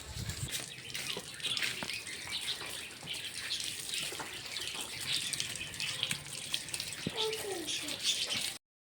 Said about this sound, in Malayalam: നമുക്കിത് കഴുകാൻ പോവാം.